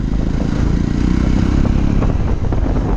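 A Jawa 42 BS6 motorcycle idles too fast with an over-racing fault, the engine churning loudly and steadily up close in a dense, rapid low thrum with no pauses.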